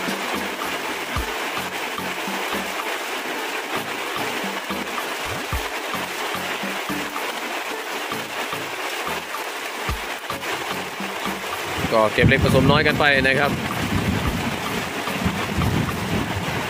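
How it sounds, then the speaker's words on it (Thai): Heavy rain pours down in a constant loud hiss at an elderly elephant's open shelter, with gusty wind and someone speaking over the downpour near the end. "ฝนก็เริ่มสาดแล้วครับ"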